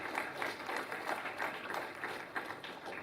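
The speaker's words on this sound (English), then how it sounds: "please put a huge round of applause to the leaders and the hugely successful team" An audience at a school's 25th annual science awards function gives a round of applause, a dense, steady wash of many hands clapping together with no voices over it.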